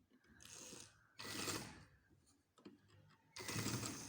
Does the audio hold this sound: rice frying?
no